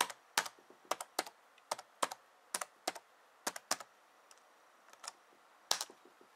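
Keys tapped on a ThinkPad T61 laptop keyboard while entering a password, a sparse, irregular series of crisp clicks close by in a quiet room, with no talking.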